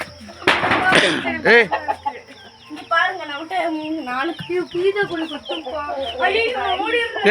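Several hens cluck and squawk close by in a busy, irregular chorus, with people talking over them.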